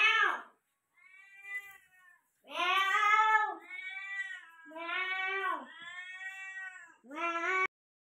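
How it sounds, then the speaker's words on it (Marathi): Two cats yowl and meow back and forth in a fight, drawn-out wavering caterwauls alternating with shorter cries, loud and close with short gaps between calls. "मांजराची जुगलबंदी चालली आहे"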